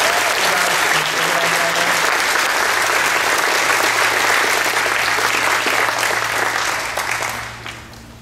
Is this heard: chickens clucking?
no